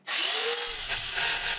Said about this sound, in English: Here I'm showing using my grinder to grind some additional clearance for the grease stuff on the double ball screws.